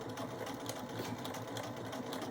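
A sewing machine stitches a hem, running with a fast, even whir and a steady mechanical patter that carries on alone without a break.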